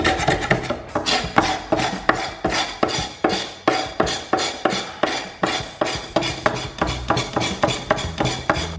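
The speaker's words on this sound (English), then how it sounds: "I'm going to use this knife to take it out" Rhythmic rasping scrapes of a knife blade pulled repeatedly across a wooden IKEA dining table, lifting old oil residue, each stroke close and fairly loud in a steady back-and-forth pattern with no talking.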